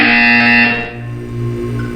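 A loud electronic buzzer from Portal 2 blares with a harsh, harmonic tone, then cuts to a lower droning hum that continues alone.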